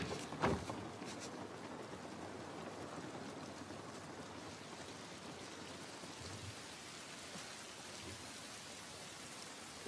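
Steady rain pours down in the video game The Last of Us Part 1, a continuous dense hiss, with a brief louder thump near the start and faint low rumbles underneath.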